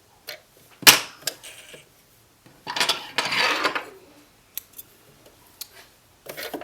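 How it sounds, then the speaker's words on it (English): Scissors snip sewing threads on a stuffed bat pillow, giving a few sharp, close metallic cuts and clicks separated by quiet pauses, with a longer rustling stretch in the middle. "I'm just going to cut my threads"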